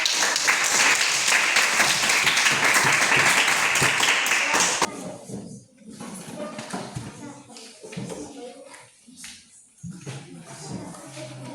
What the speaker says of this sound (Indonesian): Kita berikan tepuk tangan sekali.